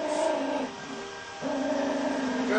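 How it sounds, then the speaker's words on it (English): Dogs howling in the Skyrim video game, a sustained wavering harmonic howl that dips briefly midway and then returns strongly, heard alone without speech. "Dogs."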